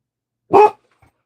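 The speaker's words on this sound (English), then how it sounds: "Sorry about the bark." A dog gives one sharp, close bark followed by a faint short yip, with silence around it and no one talking.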